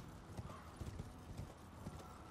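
Horse hooves clip-clop in the video game Elden Ring: Shadow of the Erdtree, a quick, irregular series of soft thuds at close range over a steady ambient wash.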